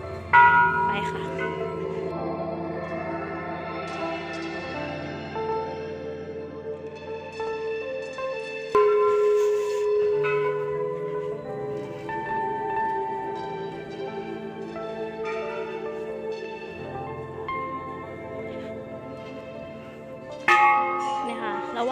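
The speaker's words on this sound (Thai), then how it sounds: "ระหว่างเดินก็จะมีคนเคาะระฆังนะคะ" A temple bell at Wat Phra That Hariphunchai, Lamphun, Thailand, is struck several times, each deep resonant clang ringing out and slowly fading before the next strike, with faint voices around.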